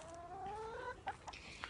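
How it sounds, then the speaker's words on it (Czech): A hen gives a drawn-out rising cluck, followed by a few short clucks and squawks, fairly faint with no talking. "Slepice tu chodí, jak chtějí."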